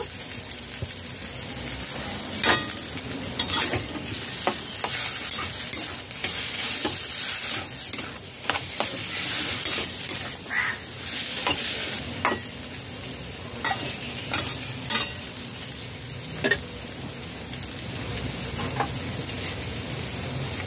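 Spiced fish cutlet mixture is stirred in a frying pan, a steady close sizzle running throughout with frequent scraping and clicking strokes of the spatula, no voices.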